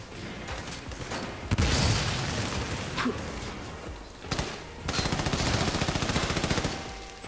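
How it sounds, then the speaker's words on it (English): Gunfire and grenade explosions at a shooting range in Army of Two: The Devil's Cartel: heavy booms and bursts early, then sustained rapid automatic fire in rhythmic volleys, all loud and close over game background noise. "Shoot from behind cover and toss grenades at the targets."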